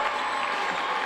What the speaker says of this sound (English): the mascot gets the crowd riled up